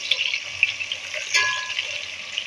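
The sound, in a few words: onions frying in a pan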